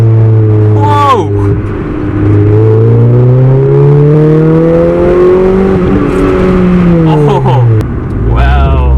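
A Honda Integra engine with a twin loop catback exhaust revs hard into VTEC and climbs in pitch for several seconds, loud and close, with a brief shift dip and another surge near the end.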